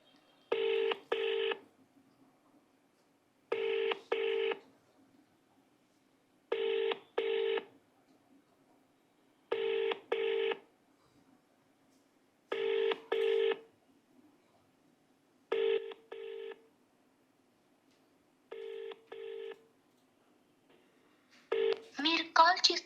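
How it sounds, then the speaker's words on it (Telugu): Ringing tone of an unanswered phone call repeats in regular double pulses, about eight cycles spaced evenly with quiet gaps, clear but moderate in level, followed at the very end by a brief burst of recorded voice. "రింగ్ అవుతుంది."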